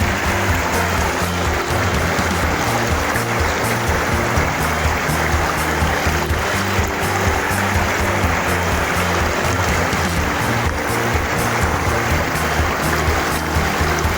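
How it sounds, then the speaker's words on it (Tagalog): Steady rushing river water flows without a break, a dense broadband wash with a low rumble underneath, close and fairly loud throughout. "pakinggan nyo na lang guys yung tunog ng ilog"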